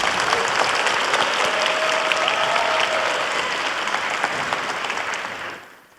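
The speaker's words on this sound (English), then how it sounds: "can we give Mia a round of applause?" A crowd at a school board meeting applauds a student honoree, Mia, with dense sustained clapping that holds steady for several seconds before tapering off at the end.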